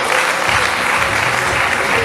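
An audience applauds, a dense, steady clapping from many hands that fills the short stretch evenly and loudly without pause.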